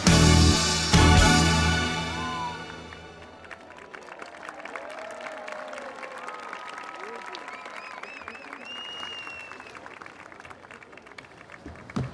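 Loud audience applause and crowd clapping at a World Culture Festival right after a performance, dense at first and then settling into a steady patter, with a voice speaking over it.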